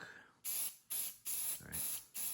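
Krylon all-in-one metallic dark metal spray paint hissing from the can in five short bursts of roughly half a second each, close and loud, with brief pauses between.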